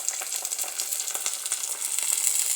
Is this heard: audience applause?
no